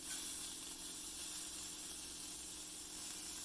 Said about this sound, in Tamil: இப்போ நல்லா சூடாக இருக்கிற இந்த பேனில் நம்ம அரிசி சேர்த்துடலாம்